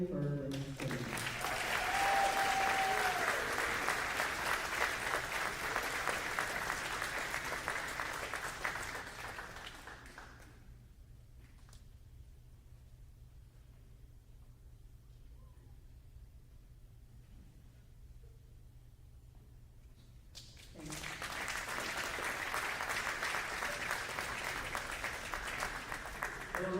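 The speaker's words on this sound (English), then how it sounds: "A round of applause for our student athletes." Applause for student athletes in a school gym at a playoff game between Armbrae Academy and JL Ilsley, a dense, even wash of clapping that stops for several seconds of near quiet and then starts up again.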